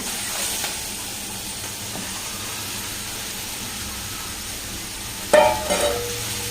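Fish fries in hot oil in a home kitchen, a steady soft sizzle running underneath, with a brief louder burst of spattering and clatter near the end.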